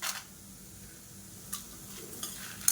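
Coriander seeds and red chillies roasting in oil produce a steady soft sizzle with a few light scraping stirs and clinks from the pan, close and alone.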